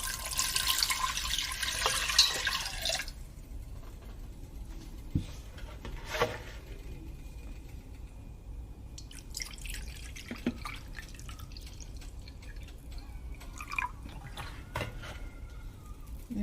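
Vinegar is poured into a measuring cup while canning pickles and preserving vegetables, with a brief splashy trickle at the start followed by faint drips and small clinks in a quiet kitchen.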